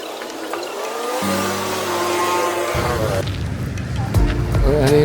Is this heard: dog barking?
no